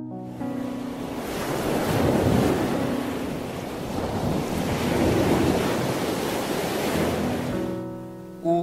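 Ocean surf rolls and crashes continuously, loud and broad with wind rumble, swelling and easing across the stretch without any voices, then cutting off at the end.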